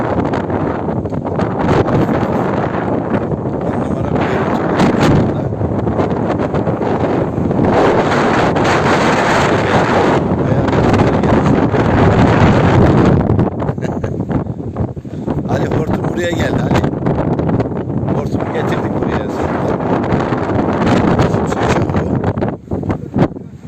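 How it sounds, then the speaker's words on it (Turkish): Strong gusty wind ahead of rain roars and buffets the microphone almost without pause at Zile Castle in Tokat, Turkey, while a person speaks Turkish underneath the noise. "Büyük bir ihtimal şu anda yağmur, rüzgar getiriyor bu tarafa."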